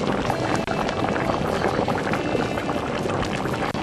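Pacupeva fish and cassava cook in a pot outdoors, giving a loud, steady bubbling and rushing of liquid throughout with no pauses.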